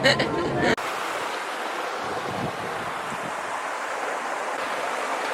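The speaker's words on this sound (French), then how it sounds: "On est à la rivière de Baie-Saint-Paul." Steady, broad rush of the river at Baie-Saint-Paul, Quebec, fills the scene after a brief voice at the very start.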